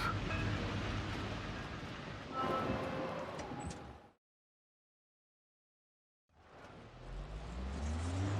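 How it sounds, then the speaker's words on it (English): A car engine in The Invincible video game runs and revs as the vehicle drives off, a steady rumble that cuts out to silence midway and then returns with a rising engine drone. "The engine started."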